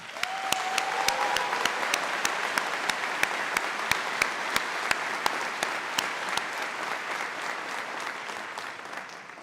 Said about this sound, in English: Please join me in a special round of applause for those supporters who are celebrating their graduates' accomplishments from beyond these walls.